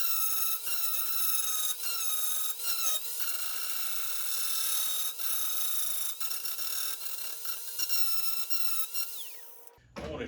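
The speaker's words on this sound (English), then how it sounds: "So that's where I go and I start grinding." A grinder works through spot welds on the steel cowl of a 1966 Ford Mustang, giving a steady close metallic grinding whine with brief dips and pulses before it winds down at the end.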